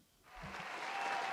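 Applause swells in after a brief quiet moment and then holds at a steady, fairly soft level of many hands clapping, with no talking over it.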